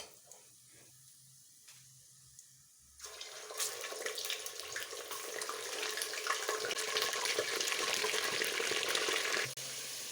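Chicken pieces with whole garam masala hit hot oil in a pot, a quiet start giving way to a loud, sudden, sustained sizzle that swells and holds, with faint clinks of stirring.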